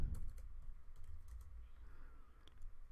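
A command typed on a computer keyboard, a quick run of soft close key clicks, quiet and without talk.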